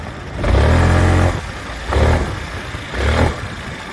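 A 2016 Yamaha Forza 300 scooter surges in three hard bursts of acceleration, each with a rough, squawking drone from a slipping drivetrain, easing off between pushes.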